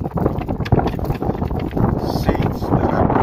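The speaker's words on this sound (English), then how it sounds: "Sorry guys, it's very windy" Strong wind buffets the microphone outdoors in a desert garden, a loud continuous roaring rumble with gusty swells throughout, while a person talks over it.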